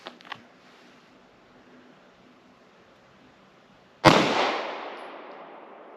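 A single sharp shot from a CZ-75 pistol firing 9mm 115 grain Winchester Silver Tip rounds, preceded by faint mechanical clicks, then a loud crack that decays over about two seconds.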